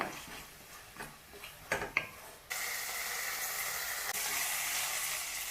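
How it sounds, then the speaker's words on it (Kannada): Tomatoes and onions frying in oil in a pan, a soft crackling sizzle that becomes a steady, louder hiss halfway through, with a few brief stirring clicks early on. "ಟೊಮ್ಯಾಟೊ ಎಲ್ಲ ಸ್ವಲ್ಪ ಮೆತ್ತಗಾಗೋವರೆಗೂ ಚೆನ್ನಾಗಿ ಫ್ರೈ ಆಗ್ಬೇಕಿದೆ ಎಣ್ಣೆಯಲ್ಲಿ."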